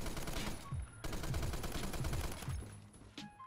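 Sustained machine-gun fire from an M60 in the Phantom Forces shooter game, dense rapid bursts with brief pauses near one and three seconds, loud and close throughout.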